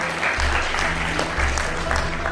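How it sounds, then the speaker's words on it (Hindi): Loud applause from a crowd at a welfare-organization event honouring a municipal councillor, a thick, continuous clapping over a low hum throughout. "जोरदार तालियों से स्वागत करें"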